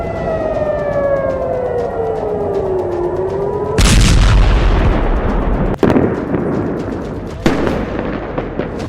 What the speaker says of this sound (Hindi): नवंबर की शाम को हिजबुल्लाह ने इजराइल पर 100 से ज्यादा रॉकेट दागे।